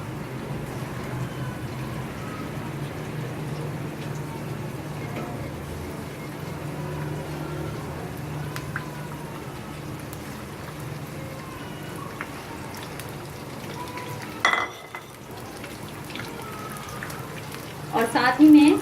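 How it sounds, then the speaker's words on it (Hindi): Koftas frying in hot oil in a home kitchen, a steady dense crackling sizzle running throughout, with a brief louder splatter or clatter near the end. "गर्म हो गया है, अब मैं कोफ्ते फ्राई करूंगी।"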